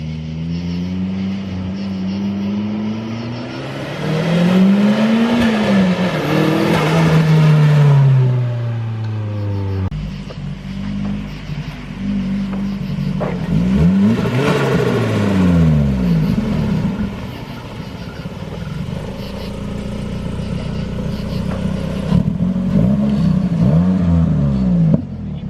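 A drift car engine revs hard and close, climbing and falling in long repeated pulls with sharp rises in pitch and brief dips between, loud and sustained with no talking.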